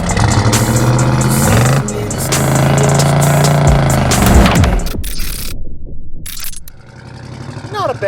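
Factory 454 big-block 1976 Chevrolet C10 short bed with automatic and AC on a test drive: a loud, close, rumbling engine with revving swells, some rattles and clunks, and a quieter idle toward the end.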